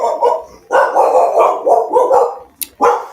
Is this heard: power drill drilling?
no